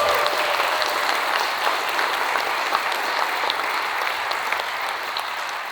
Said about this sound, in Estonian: Teile veel aplausid!